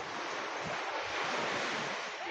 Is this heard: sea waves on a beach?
yes